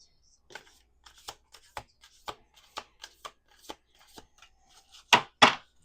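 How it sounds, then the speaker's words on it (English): Tarot cards are handled close up: a series of sharp flicks and snaps, irregularly spaced, ending with two louder riffling bursts. "Two more shuffles."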